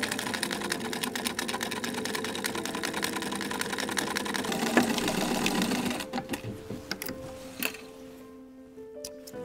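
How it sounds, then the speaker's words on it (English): A sewing machine rattles rapidly in a fast, continuous stitching run, then stops and restarts in a few short bursts before falling quiet. "I'm just going to sew this here on my sewing machine"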